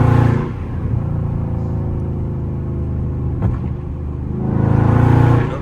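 An untuned Dodge Charger Scat Pack engine rumbles loudly from inside the cabin, swelling in revs at the start and end, with a brief crackling exhaust pop in between.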